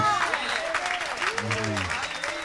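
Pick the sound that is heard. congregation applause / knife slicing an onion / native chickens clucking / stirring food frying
congregation applause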